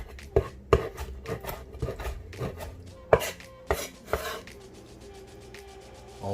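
Grilled picanha beef gets chopped on a board with a knife, a string of sharp, uneven close thuds and scraping strokes with short pauses between cuts, no talking.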